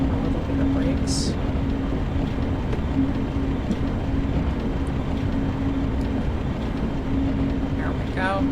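An interurban electric train on the Sacramento Northern line in Train Simulator Classic rolls downhill with light braking, a steady loud rumble and a sustained low hum carrying on, with occasional high squeals and clanks over it.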